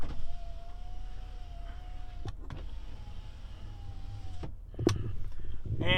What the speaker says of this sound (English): right here you're going to find the powered sliding rear window